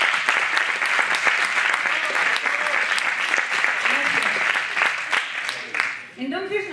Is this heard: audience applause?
yes